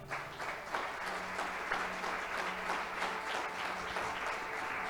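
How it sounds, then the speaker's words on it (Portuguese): Church congregation applauding in steady, dense clapping that fills the room, continuous and fairly even throughout with no speech on top. "Vamos aplaudir Jesus."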